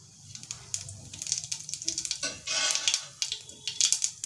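Mustard seeds and cumin sizzle and pop in hot mustard oil, a crackling patter of sharp little bursts that thickens into a steady fry midway through.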